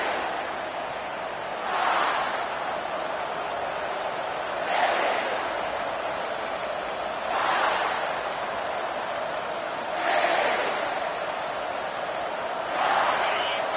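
Stadium crowd at a South Carolina Gamecocks football game, loud steady roar swelling into cheering surges at regular intervals through the opening kickoff, a broadcaster's voice talking over the noise.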